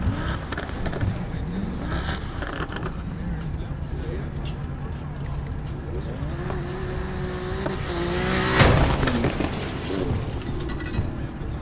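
Car engine in the Need for Speed Heat racing game, climbing in pitch as it accelerates hard with a revving surge near the end, under steady background noise and voices.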